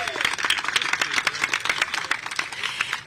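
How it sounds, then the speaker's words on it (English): Crowd applause at a ribbon-cutting for the Wishbone Bridge and Unity Tunnel, with scattered, uneven hand claps close by and steady background clapping lasting the whole moment. "let's give him a round of applause"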